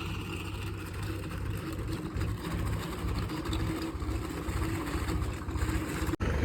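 A tractor drags a wooden plank leveller on a wire rope across a field to break up clods, its engine droning steadily and continuously close by.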